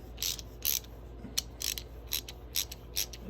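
A Craftsman VT 44811 ratchet fitted with a number 10 socket clicks in short, evenly spaced bursts of sharp metallic pawl ticks, close and fairly quiet.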